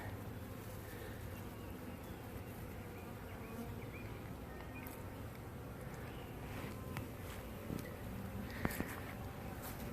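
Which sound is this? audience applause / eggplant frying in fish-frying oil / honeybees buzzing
honeybees buzzing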